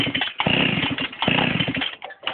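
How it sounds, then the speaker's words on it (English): A mini moto engine revving with the exhaust removed, loud raw buzzing with audible piston firing, two strong bursts separated by short dips, close up with no talk. "You can really hear the pistons firing."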